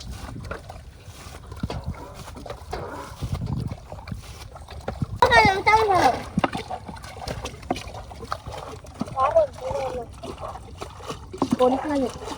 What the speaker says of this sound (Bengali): তো নৌকার পানি হিসাব শুরু হয়ে গেছে।